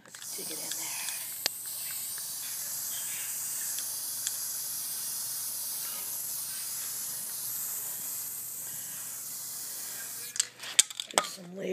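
A long continuous aerosol hiss sprays steadily for about ten seconds, then breaks into a few short bursts and clicks near the end.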